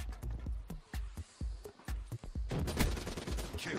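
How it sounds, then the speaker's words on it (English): Rapid rounds from the Tempest in Call of Duty: Black Ops 3 crack out in quick irregular bursts, close and sharp, with a denser, busier volley of shots toward the end. "You're trying to shoot me with Tempest?"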